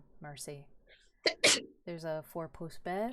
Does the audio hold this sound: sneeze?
yes